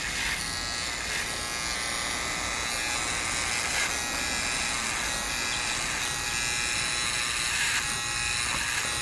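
Electric hair clippers trim the neck hairs during a man's home haircut, a steady close buzzing hum that runs the whole time with slight changes in pitch and no talking.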